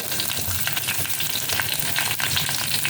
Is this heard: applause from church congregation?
no